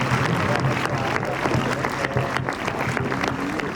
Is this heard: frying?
no